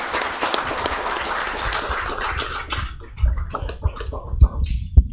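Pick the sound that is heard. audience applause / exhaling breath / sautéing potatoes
audience applause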